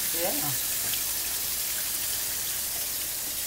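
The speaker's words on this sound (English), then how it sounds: "So what we're doing is rinsing the rice." Rice is rinsed under running tap water, a steady broadband hiss of flow with a brief splashy patter near the start, fairly faint and even throughout.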